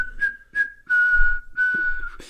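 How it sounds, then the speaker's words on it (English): A person whistles a jaunty, lilting jingle in several sustained clear notes with short breaks between phrases, close and loud with no talking. "that is about as complicated as you want to get with a threatening whistle"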